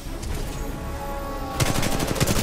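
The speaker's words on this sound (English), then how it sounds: "Oh, that was mainly hip fire." Rapid hip-fire gunfire from a pilot's weapon in the pre-alpha Titanfall 2 pilot-versus-pilot multiplayer, a steady stream of shots that swells into louder, denser bursts in the final second.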